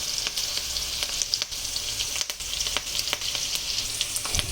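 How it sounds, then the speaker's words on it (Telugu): Red chillies frying in hot oil, a steady close crackling sizzle with scattered sharp pops running throughout, no voices. "కొంచెం జాగ్రత్తగా చూసుకుంటూ వేయించుకోండి ఈ మిర్చి"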